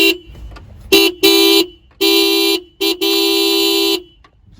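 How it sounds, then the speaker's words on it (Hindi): An original Hyundai Creta horn fitted to a Maruti Baleno honks in a series of loud blasts, some short and some held for over a second, with brief gaps between them, close by. "मैं एक बार पहले आपको हॉर्न की आवाज़ सुना देता हूँ"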